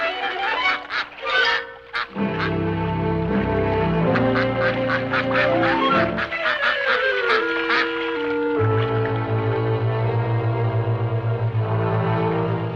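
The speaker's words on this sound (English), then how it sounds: "a passel of wild mallards dropped in for a swim" Wild mallard ducks quack steadily over a lively orchestral score, their calls bunched in quick repeated bursts that run through most of the stretch, with one short pause partway.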